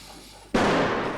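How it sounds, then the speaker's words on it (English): A single sudden gunshot-like bang in a comedy scene opens a loud, sustained burst of noise after a quiet start. "It's probably just Mr. Muckby shooting an intruder."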